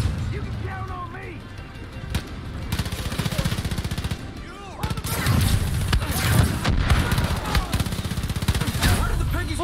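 Enemies blow up amid heavy gunfire in Far Cry 5, dense rattling shots and crashing bursts that grow louder partway through, with someone talking over the din.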